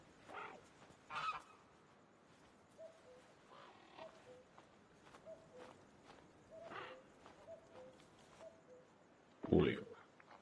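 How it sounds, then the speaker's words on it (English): Goose honks from Disney Dreamlight Valley sound in short, scattered calls over soft game ambience with occasional footsteps, the loudest honk near the end. "Oh, I heard a goose."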